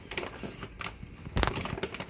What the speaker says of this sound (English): Pour in about 1 cup total of coffee grounds.